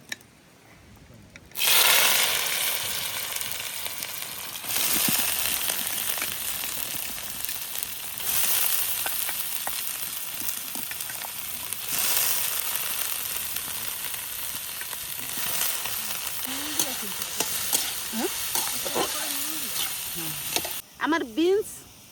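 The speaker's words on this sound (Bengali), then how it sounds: "গাজর আর বিনসটা এখন ভাজে নেবো" Carrots and beans fry in a pan for fried rice, cooked outdoors in a forest at midday in winter. A steady, close hiss and sizzle runs throughout with scraping stirs, and a voice briefly speaks near the end.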